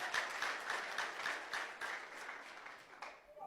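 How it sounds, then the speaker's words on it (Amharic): A church congregation applauds in a steady, dense wash of clapping, fairly close and sustained, easing off toward the end, with no voices over it. "የጉባኤውን ጭብጨባ ሰምተሃል አይደል?"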